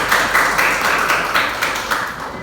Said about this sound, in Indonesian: Ya, tepuk tangan untuk Hafsa.